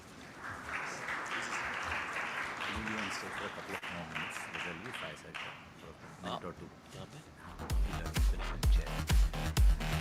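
A large audience at a brand conference in India breaks into sustained applause for a speaker, a steady wash of clapping at moderate distance, followed by louder thumps and movement.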